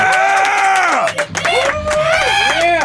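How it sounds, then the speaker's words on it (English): A live studio audience cheers, whoops and hollers loudly in a dense, continuous burst close by, with scattered clapping underneath and a brief dip in the middle before the roar swells again. "these are all the people in the room who are going to clap really loudly"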